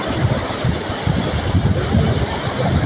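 Water at a waterfall rushes in a continuous loud roar, close and steady, with no talk over it.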